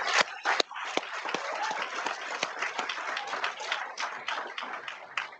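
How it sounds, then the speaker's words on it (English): A graduation audience at Bay Mills Community College applauds with dense, steady clapping from many hands, filling the hall at moderate loudness with a few sharper individual claps standing out. "can we take a little bit of time to give them all a round of applause"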